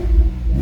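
Porsche 911 S, a 2011 997.2-generation manual cabriolet with the optional Sport exhaust, giving a deep, close engine rumble that swells and eases briefly, with no voices.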